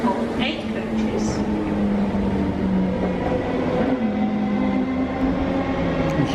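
A Class 90 electric locomotive-hauled train from Norwich passing at a London station, a steady rumbling roar with a sustained tonal hum that shifts slightly in pitch, with background voices.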